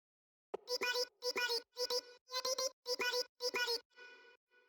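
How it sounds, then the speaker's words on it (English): Pitch-bent vocal chops in a Moombahton remix play as a run of seven short, evenly spaced bright sung stabs, each sliding in pitch, ending with a softer trailing tone; no talking over them. "I added this pitch bend right here so it can be a"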